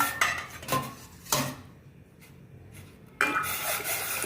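A metal cooking pot set down on a stove, with a few sharp clanks and scrapes of metal against metal, close and fairly loud, with a quiet gap between the bursts of contact.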